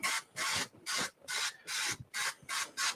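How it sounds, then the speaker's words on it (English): Cooking oil sprayed from an aerosol can in short hissing bursts, about seven in a quick, fairly even rhythm, close and moderately quiet with no talking. "So I just use a spray can."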